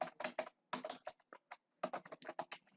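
Typing on a computer keyboard into a code editor's search box, with quick bursts of close, crisp key clicks separated by short pauses, heard alone.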